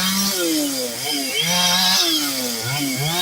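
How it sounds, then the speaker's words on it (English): A chainsaw runs close and loud, its motor tone rising and falling in repeated revving sweeps as the elder works with it, steady engine buzz throughout with no talk. "You see the elder with a chainsaw."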